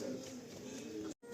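Malwai pigeons cooing in a soft, steady murmur, close by and continuous before a brief gap near the end.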